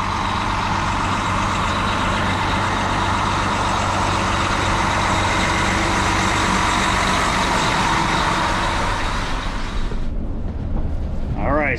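Several buses idle together in a stadium parking lot before Super Bowl shuttle service, a loud steady engine rumble that cuts off abruptly near the end.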